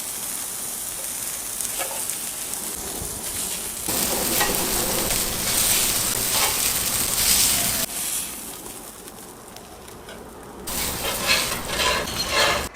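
Fresh-ground hamburger patties sizzling on a hot grill, a loud continuous crackling sizzle with shifting intensity and a few scraping stirs, no talking.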